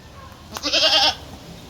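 A native goat lets out a single short, close bleat over a quiet farmyard background.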